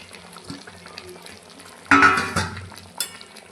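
Fried potatoes tumble into a pot of spiced chicken kosha with a sudden clattering, sizzling burst, then a few lighter clinks against the pot.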